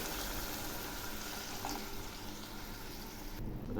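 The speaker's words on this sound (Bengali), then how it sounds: "এবার আমি জল দিয়ে দিচ্ছি।" Water poured into a pan of frying vegetables for a thin Bengali fish curry, a constant bubbling, hissing rush that holds level, then thins out just before the end.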